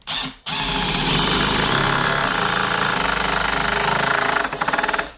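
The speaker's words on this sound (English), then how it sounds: "that's all very well doing this with an impact, putting these screws in" A single-thread woodscrew is driven with an impact driver, producing a loud, close, sustained rapid hammering rattle for several seconds after a brief pause, tapering at the end.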